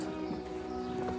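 A donkey's hooves clip-clop on the stone steps up to the Monastery at Petra, a few soft irregular knocks close by over a steady background hum.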